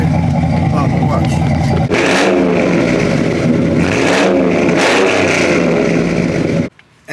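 A Chevy Trailblazer SS with a 6.0 LS2 V8 roars loud and close, revving steadily with a deep rumble for several seconds before cutting off abruptly.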